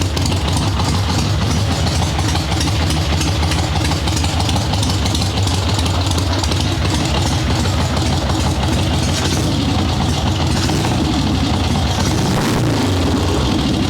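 Swap-meet chopper motorcycle engine running with a tuned Mikuni VM38 carburetor, a loud close rumbling throb with a steady lumpy rhythm that revs slightly near the end, no talking.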